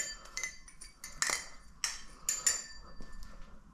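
Quick metallic clicks and clinks in irregular bursts, close up, from a Machinewise Prysma Pro balisong trainer being flipped, with faint background noise.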